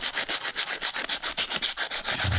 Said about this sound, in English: So we'll just take a wee bit of sandpaper